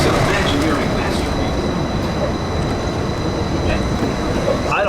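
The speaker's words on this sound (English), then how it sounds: "welcome aboard the Disneyland monorail" Steady rumble and hiss of the Disneyland monorail gliding along its track, a constant close-up cabin drone with faint squeaks, and no voices heard.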